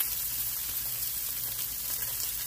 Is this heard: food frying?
yes